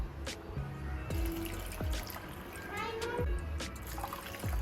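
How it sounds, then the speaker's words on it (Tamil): Water pours in a steady, splashing trickle into a pot of sago, with soft clinks and a faint murmur in the background. "இப்போ நம்ம தண்ணி ஆட் பண்ணிடலாம்"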